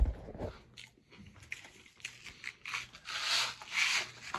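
A pet crunches dry treats, giving irregular crisp bites and chewing noises up close, with a short rustle at the start and no speech.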